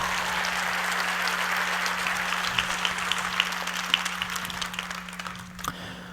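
A church congregation breaks into sustained applause, a dense, steady wash of many hands clapping that fills the room and tapers slightly toward the end.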